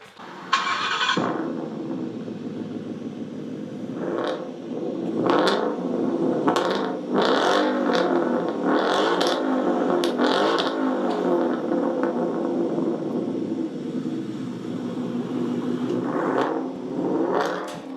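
A Ford Mustang fitted with an H-pipe exhaust and no muffler revs repeatedly, its engine note climbing in a series of loud, close surges over a continuous idle rumble, with no talk.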